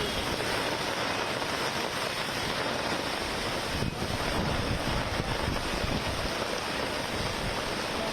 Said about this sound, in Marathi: समुद्र खवळलेला दिसतोय